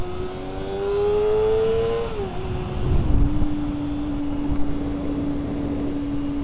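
A Honda CBR250RR motorcycle engine, warmed up, revs to a high steady whine, drops briefly, then holds a high sustained rev with a buzzy, raspy tone close by.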